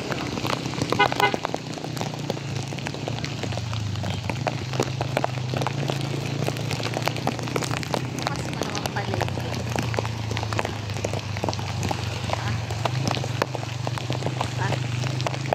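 Steady rain falls during Typhoon Carina in a flooded Philippine street, a constant wash of drops and splashes heard close by, while people talk throughout.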